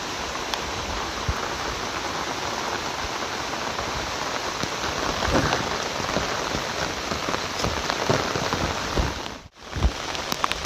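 Monsoon rain pours steadily on a Konkan village, a dense, loud, even wash of drops hitting surfaces that continues throughout, with a brief dip near the end and no voices.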